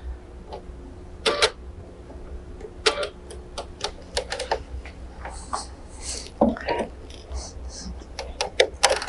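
Bernina sewing machine stitching a simple zigzag, heard as irregular clicking and tapping bursts over a low motor hum, close and moderately loud.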